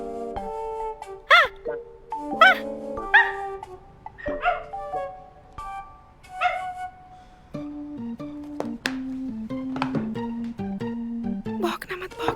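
Dog barks and yips in short bursts over music, with a voice talking intermittently; fairly close and moderately loud.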